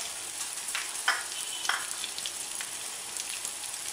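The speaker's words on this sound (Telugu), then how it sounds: "తర్వాత సాయి మినపప్పుని వేసుకోవాలి" Urad dal frying in hot oil for a gherkin and coconut fry, a soft, steady crackling sizzle with a few sharper pops, close but fairly quiet, no talking.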